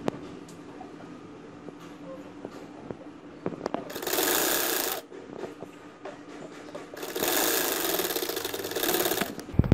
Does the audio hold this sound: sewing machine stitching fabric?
yes